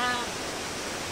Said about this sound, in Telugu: ఇదంతా వాటర్ ఫాల్.